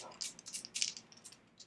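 Dice rattle as they are rolled during a tabletop Dungeons & Dragons game, a quiet flurry of light clicks and clatters over about a second and a half.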